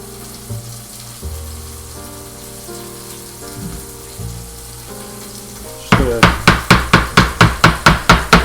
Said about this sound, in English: And we'll chop this up a little finer since we might be using it for garnish